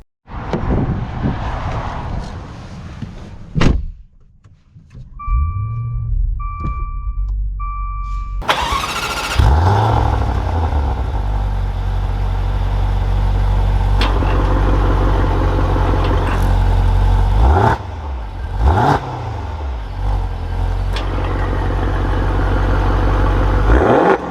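A 2021 Maserati Levante GTS starts up and drives, its engine loud and close throughout, with a burst of revving followed by a sustained, steady drone and a few brief swells as it accelerates.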